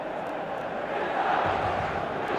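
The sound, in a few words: stadium crowd in a football video game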